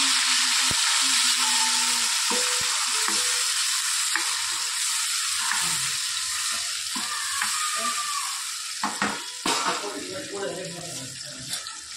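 Tomatoes, garlic and green chilies fry in peanut oil for pav bhaji, a bright, steady sizzle that fills the kitchen, with occasional stirring clatter and a voice talking underneath.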